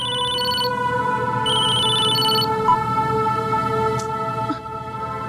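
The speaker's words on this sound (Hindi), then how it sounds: "घंटी बज रही है" A phone rings in short repeated electronic bursts over a steady background hum, with a faint clatter near the end.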